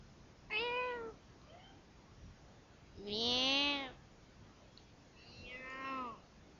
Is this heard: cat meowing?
yes